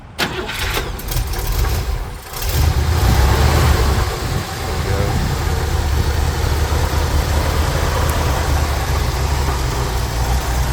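A 1964 Buick Riviera 425 cubic inch V8 with new exhaust cranks and catches after a couple of seconds, then settles into a loud, steady idle that continues to the end.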